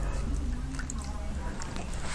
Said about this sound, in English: You may want to squeeze the water out with your hand